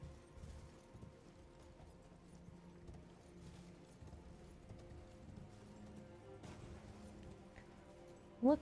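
Horse hooves clip-clop softly in a video game, a faint, steady run of hoof beats under low background sound, with a brief sharp noise at the very end.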